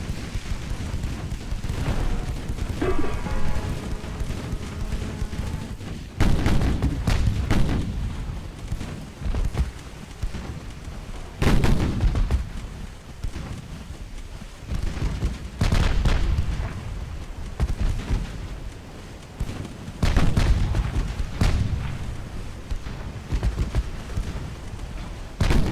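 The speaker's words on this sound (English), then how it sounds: "still pounding out a lot of fire from her smaller secondaries" Warship secondary guns pounding away in Ultimate Admiral: Dreadnoughts naval combat, a steady stream of heavy booming shots and rumbling blasts, some in quick clusters, loud and continuous over half a minute with no talking.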